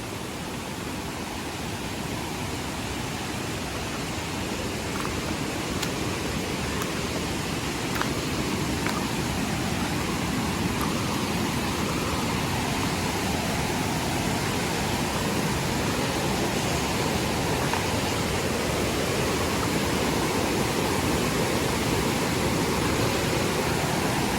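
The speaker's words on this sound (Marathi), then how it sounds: "या बघा नदी पाणी बघा पूर्ण नदी भरून पाणी होता" A flooded river rushes loudly and continuously in a broad roar of churning water, steady and close for the whole stretch, with no voices.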